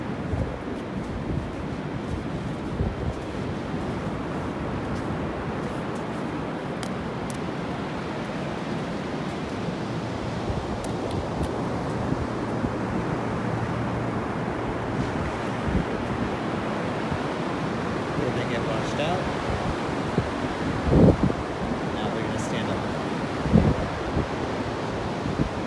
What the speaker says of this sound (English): On a beach, kind of going to the ocean at low tide.